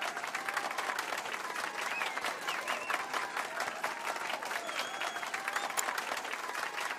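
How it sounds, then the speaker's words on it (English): An in-game concert audience in Final Fantasy VII Rebirth claps for a pianist, a steady, moderately loud round of applause from a crowd that continues evenly throughout. "Now then, let's give our pianist a warm round of applause!"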